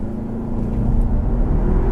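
A 2015 Audi A3 in sport mode with traction control off revs up, its engine a loud, close, swelling roar that builds over about two seconds without talking.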